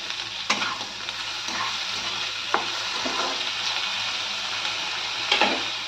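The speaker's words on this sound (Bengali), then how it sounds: "এবার এটার মধ্যে টমেটোটা দিলাম, আর ওই লঙ্কাটা কুচি রেখেছিলাম ওটা দিলাম।" Tomato and chopped chilli frying in a pan make a steady broadband sizzle, with a few sharp spoon-on-pan scrapes and stirring clicks scattered through it and no voices.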